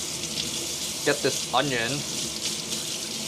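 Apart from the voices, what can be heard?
water running from a kitchen tap while washing a knife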